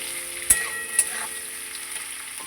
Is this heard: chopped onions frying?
yes